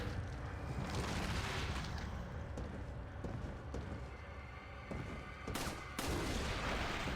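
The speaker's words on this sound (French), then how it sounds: "Oh je tire dans le baril." Gunfire in Resident Evil 4 as a barrel is shot, several sharp cracks and booms over a dense, rumbling game soundscape, loud and close with a few distinct hits standing out.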